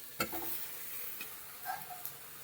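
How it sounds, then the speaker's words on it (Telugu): Tomatoes frying in a pan for an egg masala curry give a quiet, steady sizzle with a few light stirring clicks and taps of a utensil. "ఇవి ఒక రెండు నిమిషాలు వేయించుకుంటాం"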